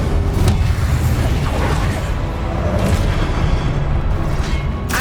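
Incendio fire spell cast in Hogwarts Legacy on PS5, a loud, dense roaring whoosh of flame with booming impacts that fills the whole moment and stays close.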